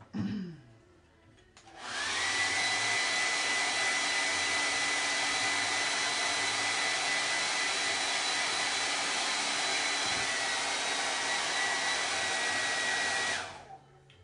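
A hair dryer blowing on chalk paste on a Christmas craft project runs loud and steady for about eleven seconds, switching on with a rising whir and cutting off at the end.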